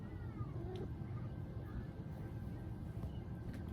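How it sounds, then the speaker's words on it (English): A small kitten meows faintly once or twice against a steady low room rumble, with no talking. "Look, it's my little kitten."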